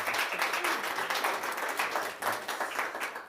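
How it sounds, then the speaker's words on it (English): An audience at a panel discussion applauding, a sustained wash of many hands clapping, moderately loud and even throughout, with no one speaking over it. "Let's have a round of applause."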